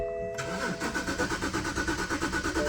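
A BMW 5 Series car engine cranks and catches, settling into a loud, slightly uneven, pulsing idle close by.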